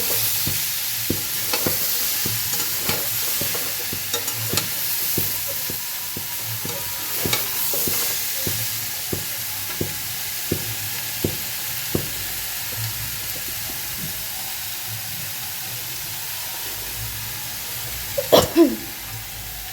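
Potato and papaya pieces sizzle steadily in a pan while a utensil stirs and scrapes them in a regular rhythm of soft clicks. A short clatter sounds near the end.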